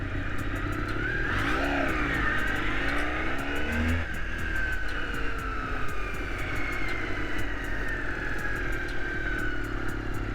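A 1989 Honda VFR400R motorcycle engine riding around the block, a continuous loud buzzing drone with rising and falling revs as it accelerates and shifts, heard close throughout with steady road and wind noise.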